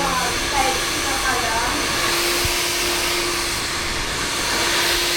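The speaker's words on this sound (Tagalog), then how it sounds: "Tapos na si Ate Neneng G mag-blower" A hair dryer blows in a salon with a loud, steady whooshing roar and a faint high whine running through it.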